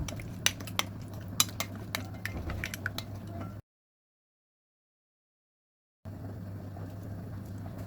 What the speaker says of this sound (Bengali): এখন সমস্ত উপকরণগুলোকে ভালো করে মিশিয়ে নেব